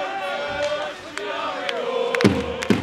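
Kometa Brno ice hockey fans chanting together from the home stands, a rough crowd chorus with a couple of sharp bangs near the end.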